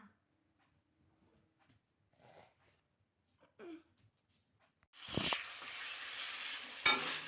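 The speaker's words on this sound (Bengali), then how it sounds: "আর একটু চিংড়ি মাছ ভেজে নিচ্ছে" Shrimp being fried in a pan in a home kitchen, near silence and a few faint sounds at first, then a sudden loud sizzle that keeps hissing steadily, with a brief clatter near the end.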